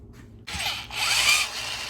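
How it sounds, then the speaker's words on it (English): A power drill spinning a Ford Bronco window regulator motor armature in its chuck whirs up after a quiet start, spinning steadily with a high buzzing whine, close by. "Basically, you just want to drill with a big enough chuck to fit your armature"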